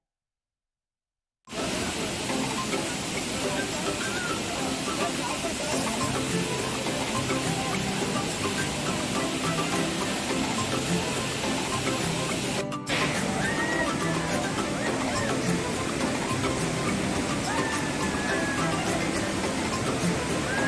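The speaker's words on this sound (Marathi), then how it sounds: "सावडाव धबधबा मुसळधार पावसामुळे प्रवाहित झालाय" Savdav waterfall near the Mumbai–Goa highway in Kankavli taluka, swollen after heavy monsoon rain: a steady, dense broadband roar of rushing water runs unbroken throughout, with a brief dip partway before it resumes just as loud.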